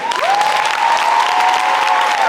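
An audience at an eighth grade graduation applauds loudly and steadily, and a thin, sustained whistling tone, like microphone feedback, rings over the clapping throughout.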